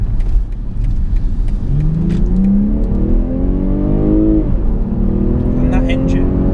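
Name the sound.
BMW 840i M Sport engine accelerating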